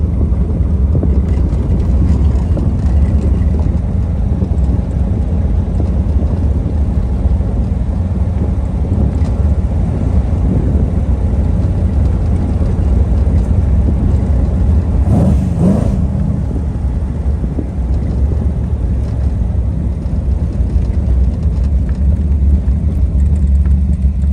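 A Ferrari 250 GT California running in second gear, a steady low engine drone with constant wind rush across the microphone, with no talk.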